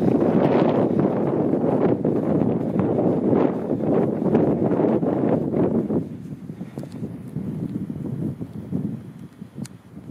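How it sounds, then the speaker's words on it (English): Strong wind buffets the microphone outdoors on a gusty coast, a loud continuous rushing roar that eases somewhat in the second half, with faint bird calls poking through near the end. "Considering how windy it is at the moment."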